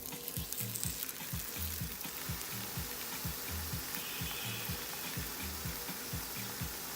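Butternut squash flatbread cooks in a thin coat of grapeseed oil in a pan over medium-low heat, producing a faint, steady sizzle over a soft, regular mechanical pulsing.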